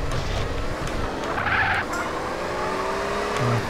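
A ZR350 sports car in GTA San Andreas revs and accelerates hard, engine tone rising and shifting with a brief tire squeal near the middle, loud and close throughout.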